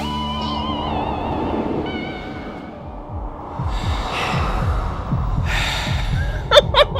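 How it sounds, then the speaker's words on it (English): A song's backing carries a low, thumping heartbeat pulse with heavy, gasping breaths layered over it, moderately loud and steady, with breathy accents growing sharper toward the end. "And the heartbeat. You gotta have the heartbeat too."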